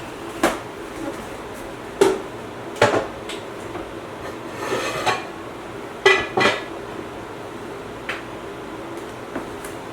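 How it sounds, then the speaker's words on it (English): In a home kitchen, a lid goes onto a slow cooker of apple butter with a scattering of sharp, close clinks and knocks, several spread across the stretch, over a quiet background without talk. "I put the lid on and I set it to low"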